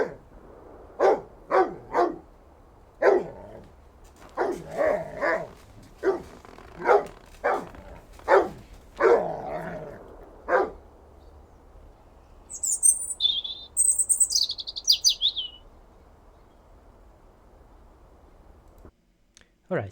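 A mono dog barks in short repeated bursts, close and clear over a quiet background, then a bird chirps in quick high twittering phrases after the barking stops.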